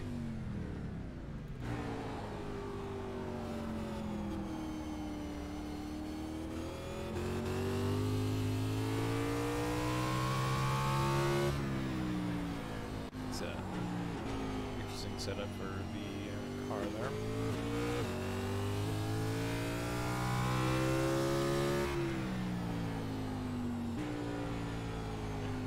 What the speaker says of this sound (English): Downshifting would work at Martinsville outside of the trucks.